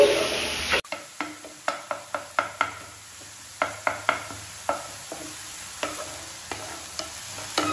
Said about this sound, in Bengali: শাকগুলো আমি ভালো করে মিশিয়ে নিয়েছি